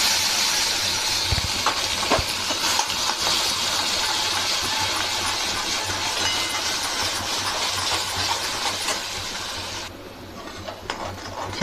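Ground masala paste frying in hot oil for an egg recipe gives a steady, close, loud sizzling hiss that runs throughout and eases slightly near the end.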